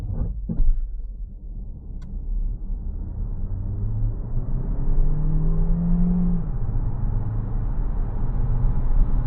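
A 2025 Lynk & Co 01 PHEV plug-in hybrid accelerating from standstill toward 100 km/h at night, heard from inside as a low rumble and whir that rises steadily, with a couple of brief clicks at the start.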